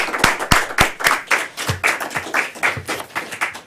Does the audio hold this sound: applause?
yes